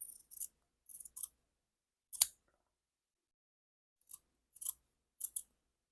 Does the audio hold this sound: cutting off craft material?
yes